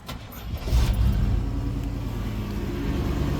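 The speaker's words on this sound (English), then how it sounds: "motor sounds good." The 454 V8 in an old Chevy Suburban idles steadily and close by, a low rumbling drone with a slight swell early on, running alone without speech.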